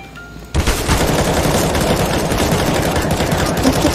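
Automatic gunfire in Counter-Strike: Global Offensive, a loud sustained burst that starts abruptly after a short quiet moment and keeps up its dense, rapid rattle for the rest of the clip.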